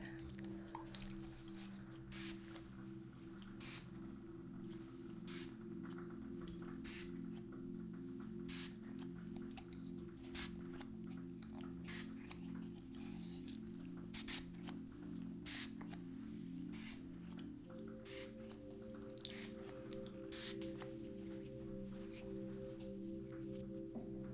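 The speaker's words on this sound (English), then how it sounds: "We're going to do a final little spray to close our session." A spray bottle gives short, soft misting bursts at irregular intervals over a low, steady musical drone in a quiet, close setting.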